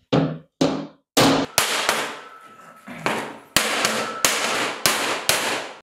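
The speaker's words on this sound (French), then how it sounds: "je vais essayer de redresser ce que je peux. En tapant bien à plat sur le cordon que ça marque pas la tôle" A hammer strikes flat on a weld bead along the sheet metal of a jet boat, about a dozen sharp, ringing metallic blows at an uneven pace, each decaying briefly before the next, close and loud with no talking.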